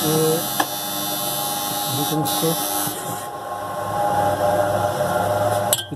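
A washing machine motor hums steadily, failing to start and never spinning up, with faint clicks and background noise around it.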